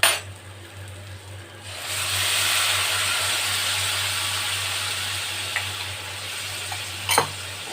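Boiled bottle gourd and potato with spices are stirred in a hot pan for lau chingri, a steady sizzling hiss rising after a quiet start, with a few sharp clinks of a utensil near the end.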